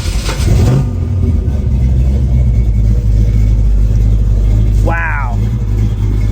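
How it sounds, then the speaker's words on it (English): A 1967 Mustang S-Code with a 427 big block V8 and C6 transmission cranks and fires, then settles into a loud, deep, choppy idle with a quick upward rev blip near the end. "paired to this 427 motor is a C6 transmission, which is beautiful for handling all of this big block power, which let's go ahead and turn on."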